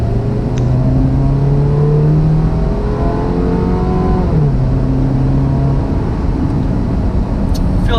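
A 2012 Chevrolet Equinox with eco mode off accelerates from about 20 mph. The engine drone rises loud and close in pitch through one gear, dips at a shift and climbs again, with no talk.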